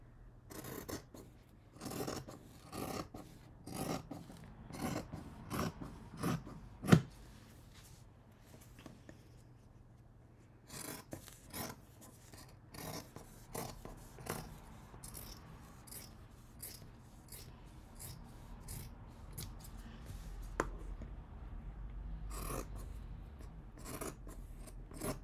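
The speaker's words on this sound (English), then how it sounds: "I love scissors noise." Scissors snipping through fabric while trimming a seam allowance level with the edge of a bag panel: a long run of short, crisp cuts in quick irregular bursts, close and clear, with no talk.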